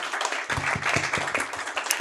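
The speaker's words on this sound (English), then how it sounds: "Round of applause for these guys" A live audience at a science talk on reality applauds two speakers. Close, lively clapping runs throughout, with a few louder individual claps and a low murmur underneath.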